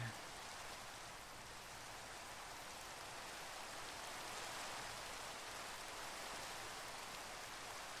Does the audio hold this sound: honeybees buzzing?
no